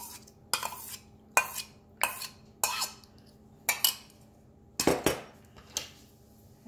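Chicken with yogurt and ginger-garlic paste is mixed in a bowl: about eight separate bursts of spoon clinks and wet scraping come at irregular intervals over a quiet background, with no talking.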